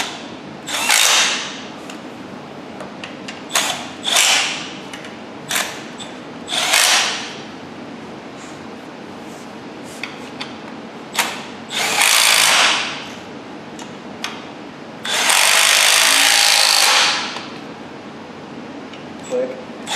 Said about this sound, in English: Now we're going to torque these in using this Milwaukee.